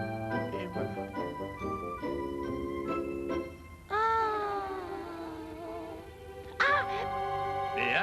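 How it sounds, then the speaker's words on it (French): A small cartoon cat meows repeatedly, with several short high cries followed by two longer, drawn-out meows, close and clear. "Oh, un chat minuscule, Matou gentil"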